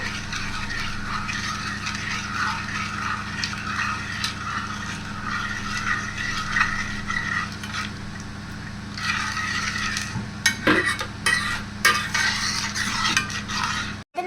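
Butter and condensed milk are stirred in a pan on the stove with a spoon, giving repeated close scraping strokes with light clinks, growing sharper toward the end.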